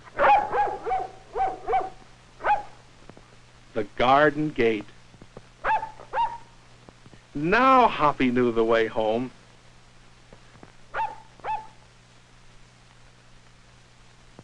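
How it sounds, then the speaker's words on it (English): A dog barks repeatedly in short bursts as it gives chase, with yips and longer excited howling stretches, interleaved with a narrator speaking over an old film soundtrack. "And the dog was getting closer."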